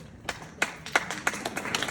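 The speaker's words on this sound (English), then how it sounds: "Round of applause." An audience at a fundraising event claps: scattered, fairly faint hand claps that pick up into a light patter, with no talking over them.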